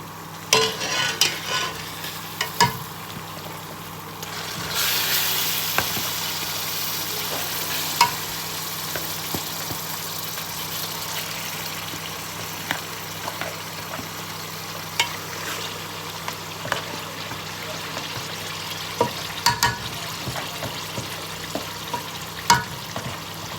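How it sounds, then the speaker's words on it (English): Nigerian stew of stewed tomatoes, onion, fresh pepper and crayfish cooking in a pot, a constant close sizzle with repeated scraping stirs and clinks of a spoon throughout, no talking. "Now guys, I'm going to add my tomatoes, my stewed tomatoes, onion, pepper, my fresh pepper, and my crayfish."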